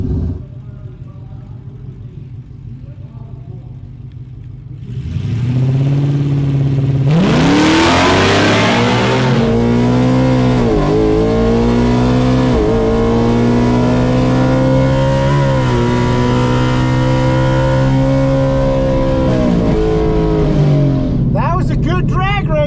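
Ford trucks launching in a drag race against an F-150 at Ford Nationals, with a loud engine roar climbing through rising, shifting revs after a quiet start, and voices under the engine noise.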